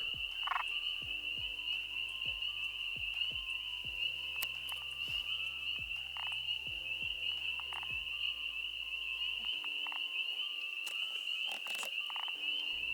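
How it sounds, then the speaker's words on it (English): A pickerel frog calls repeatedly in rapid descending croaks, close and clear, the bursts running through much of the stretch over a steady high insect drone in a wet night setting. "I wasn't too sure why this pickerel frog was making these sounds."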